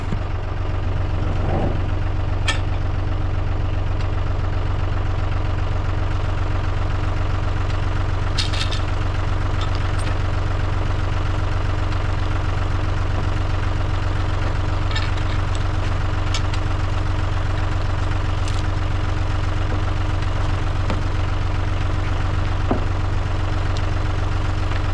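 Tractor engine idles at a sawmill while loading a giant pecan log, a steady low rumble with faint knocking vibration, close and continuous, with occasional light clanks over it.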